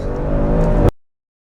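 An old Audi RS6 engine rumbles loud and close in a steady, rough, throaty drone with a slight rise in revs, cutting off abruptly just before one second and leaving silence.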